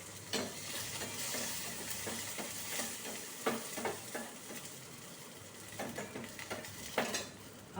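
Curry leaves crackle and sizzle in hot oil with mustard seeds in a pan, with intermittent clinks and scrapes of stirring over a continuous close frying hiss.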